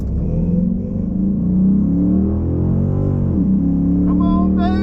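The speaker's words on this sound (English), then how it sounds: "Bit of a RPM launch here." A Chrysler 300 SRT8 with bolt-on modifications holds a steady high-RPM rumble for a launch, the engine droning loudly and continuously, dipping briefly before pitching back up, with a voice audible over it near the end.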